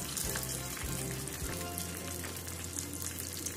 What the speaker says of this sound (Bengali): তো আমি আস্তে আস্তে উল্টি উল্টি ভেজে নেব এগুলো।